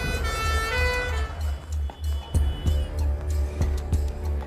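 An ambulance siren wails loudly in a steady rising-and-falling tone, then drops away, leaving a low rumble broken by several sharp knocks.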